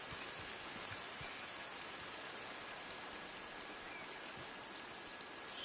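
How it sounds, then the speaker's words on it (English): Steady nighttime rain in the video game Red Dead Online, a dense hiss of falling drops with a few soft patters on surfaces, even and continuous without any voices. "Soaking wet in the rain, nighttime,"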